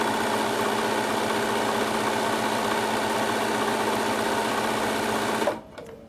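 A sewing machine stitches a zigzag seam on a tissue box cover, running in a loud, fast, continuous whirring rhythm close up before stopping abruptly near the end.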